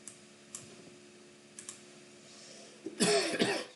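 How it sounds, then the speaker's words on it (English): A single short cough near the end, after a stretch of quiet room tone with a few faint clicks. "Sorry about the cough."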